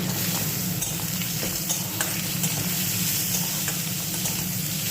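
Sliced radish being stirred into a pan of already-fried prawns gives a steady, close, moderate sizzle of frying, with occasional clicks and scrapes of stirring and no voices.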